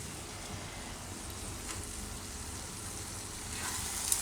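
Soya paneer bhurji sizzles softly and steadily in a pan as cream is stirred in, a continuous close frying hiss with faint stirring scrapes and no talking.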